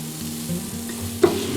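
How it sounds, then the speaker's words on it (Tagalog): Tomato slices stir-fried in hot oil with garlic and onions give a steady close sizzle, with a brief louder spatter and scrape of stirring near the end. "Add the sliced tomato and stir fry until soft."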